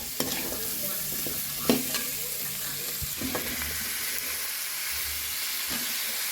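Chopped tomatoes and onions sizzle steadily in hot oil in a pan, with a continuous hissing fry broken by a few light clinks and scrapes of stirring.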